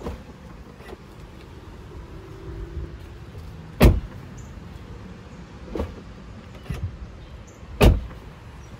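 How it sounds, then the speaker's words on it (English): A Tesla Model Y door shutting three times, each a sharp, solid thud spaced a couple of seconds apart against a quiet outdoor background, with no talk. "let's go ahead and test out how the door sounds"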